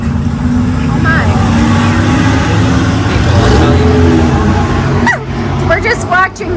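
A car running without its muffler after it was ripped off, roaring loud and raw with a steady rumbling drone and revving, while people talk excitedly over it.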